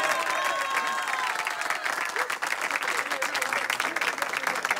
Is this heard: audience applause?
yes